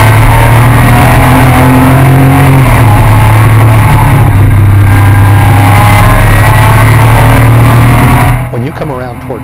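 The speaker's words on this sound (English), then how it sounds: "At this point, you're accelerating from third to fourth gear." A Pikes Peak time attack race car, the 2014 winner, accelerates hard from third into fourth gear on the upper mountain course. The engine drones loud and steady, and its pitch drops at the shift. Someone narrates over the engine throughout.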